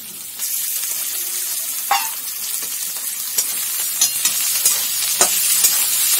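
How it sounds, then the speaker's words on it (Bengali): Minced chicken sizzling and frying with lightly browned onions in a pan, a steady crackle with occasional sharper pops and stirring scrapes, close and alone without talk. "এই মাংসের কুচিটা আমি এখন ছেড়ে দেবো।"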